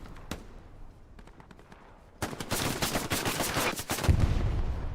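Gunfire in the WWII shooter game Hell Let Loose during a competitive match: an isolated shot, a few scattered cracks, then a sustained, loud burst of rapid automatic fire with a heavier blast near the end.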